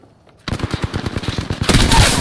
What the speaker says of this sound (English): Firing on us.